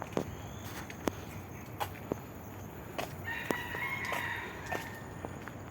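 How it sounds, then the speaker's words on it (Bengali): Chickens in an enclosure calling and crowing at a distance, with sharp intermittent clicks or footsteps nearby and a steady outdoor background hum. "ভিতরে মুরুগ আছে, ডাকতেছে।"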